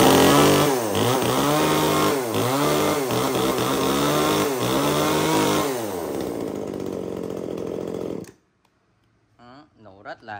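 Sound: G5 chainsaw engine running after pull start

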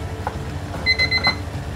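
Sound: kitchen timer alarm ringing

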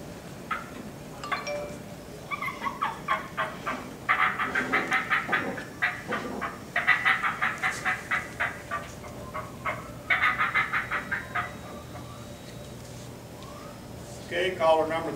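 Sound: turkey call imitating excited hen cutting

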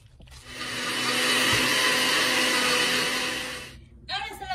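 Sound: blender blending chiles for ceviche

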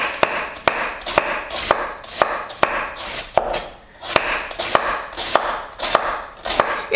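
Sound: knife thinly slicing cabbage for cortido

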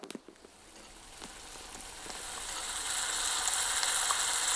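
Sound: pickle mixture boiling in pan

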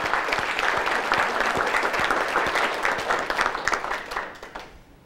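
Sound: audience applause for the mayor

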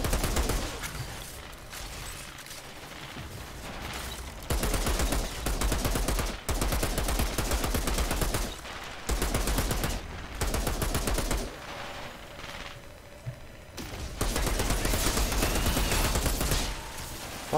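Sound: gunfire from the video game Outriders

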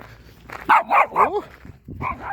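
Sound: dog barking

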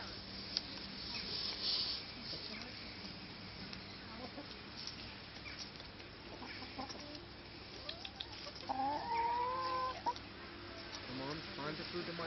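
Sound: chicken clucking

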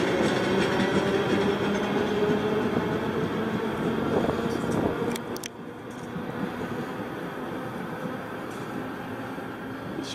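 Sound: train clattering on rails

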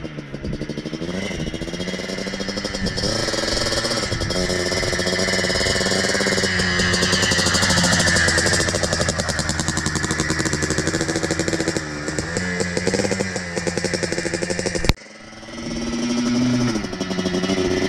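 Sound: Yamaha Blaster 200cc quad engine revving through gears

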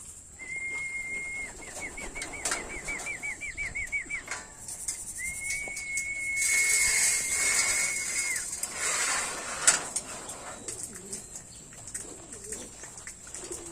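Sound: racing pigeons flapping and cooing at feeding

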